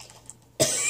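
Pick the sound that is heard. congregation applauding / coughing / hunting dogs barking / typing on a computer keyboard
coughing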